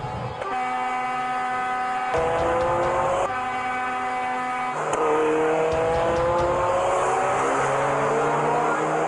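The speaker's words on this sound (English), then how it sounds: "a modified car drifting from one lane to another at dangerously high speeds" A modified car drifting between lanes at high speed, its engine loudly revving in repeated rising sweeps broken by gear-change drops, with tyre and road noise building toward the end.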